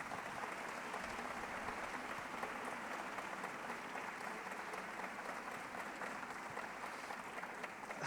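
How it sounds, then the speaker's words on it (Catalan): A concert audience at a classical music night applauds a visiting pianist, a steady wash of clapping heard faint and distant, with no voices over it. "Un aplaudiment."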